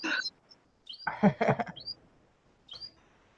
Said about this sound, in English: Oh, I hear birds.